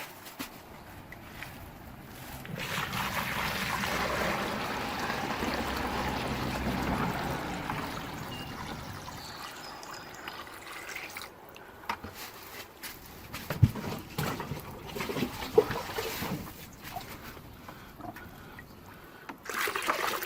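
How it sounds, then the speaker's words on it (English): Water trickling into a bucket for a self-watering capillary wick garden, a soft steady rushing that swells for several seconds, then gives way to quieter handling knocks and sporadic splashes. "Is to fill it up."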